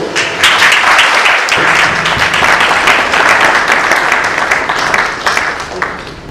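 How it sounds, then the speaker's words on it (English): Loud audience applause for a speaker at a jewellery industry conference in Jaipur, many hands clapping in a thick continuous burst with a few distinct nearby claps, easing off toward the close. "let's give a round of applause to Mr. Ankur Goyal"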